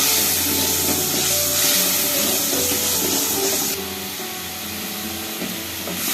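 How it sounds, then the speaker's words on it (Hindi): Garlic and chilies fry in oil in a pan for Lahori-style chole, a soft continuous sizzle with occasional stirring scrapes that eases slightly in loudness midway. "लहसुन और मिर्ची हमारी भुन रही है।"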